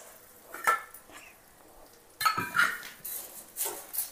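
Pulihora tamarind rice is mixed in a metal vessel, with a few scattered clinks and scrapes of a spoon against the pot separated by quiet gaps.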